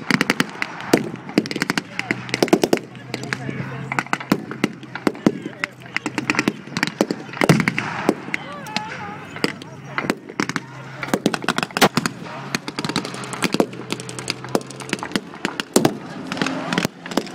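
Rapid bursts of gunfire crackle from German StuG assault guns firing at a 6-pounder anti-tank gun during a WWII Ardennes battle re-enactment in Kent, sharp repeated reports at varying distances over a continuous outdoor rumble and crowd noise.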